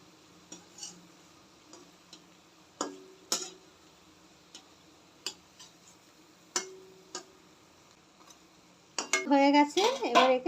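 Utensils clink and scrape against a pan while bread slices fry in ghee over low heat, with sparse separate knocks spread across the clip and a louder, busier sizzle and clatter near the end.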